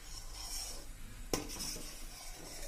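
Milk simmering in a pot for malai matka kulfi is stirred with a spoon, scraping set cream from the pot sides; steady low bubbling hiss underneath, with one sharp metallic scrape-clink midway.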